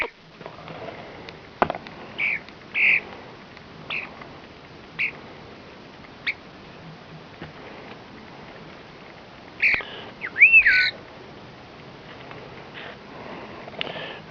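A rescued pet bird being offered cold watermelon gives a few short, sharp squawks and chirps, spread out over a quiet indoor background, with one clearer squawk near the end.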